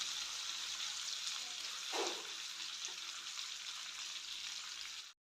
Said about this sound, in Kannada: ಅದಕ್ಕೋಸ್ಕರ ಲೋ ಕುಕ್ ಮಾಡಿದ್ರೆ ಮೀನು ಚೆನ್ನಾಗಿ ಫ್ರೈ ಆಗಿ ಬರುತ್ತೆ.